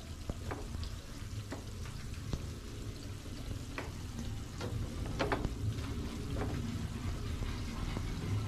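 Chili garlic frying in hot cooking oil: a continuous close sizzle and bubbling with scattered crackles and pops, steady and fairly quiet throughout with no talking.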